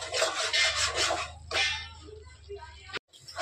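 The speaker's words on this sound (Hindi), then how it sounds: "ये देखिए सूजी को धीरे धीरे चलाते हुए हम ब्राउन होने तक भूनते रहेंगे" Semolina being slowly stirred and roasted in a pan for halwa, a steady dry scraping and rubbing close by that continues for a few seconds with a brief knock near the end.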